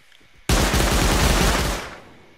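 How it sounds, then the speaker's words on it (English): Heavy automatic gunfire in the video game Rust, a loud sustained burst of rapid shots from a Tommy gun lasting over a second, then tailing off. "I'm getting shot at."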